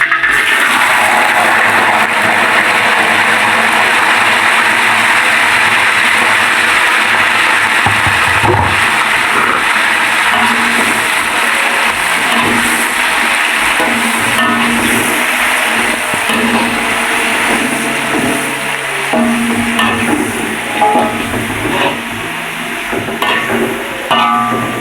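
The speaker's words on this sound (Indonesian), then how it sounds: "Sekarang kita goreng dulu cabenya ya bun, cabai merah, cabai rawit, terus cabai setannya, terus daun jeruknya ya bun" Red chilies, bird's eye chilies and lime leaves sizzle in hot oil in a wok, a continuous loud crackling hiss with scattered pops and stirring clatter, no talking.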